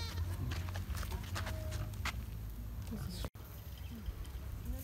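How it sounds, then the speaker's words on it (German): A goat bleats a few times on a farm visit, close by over steady low background noise, while people talk nearby. "Du bist aber eine hässliche Ziege."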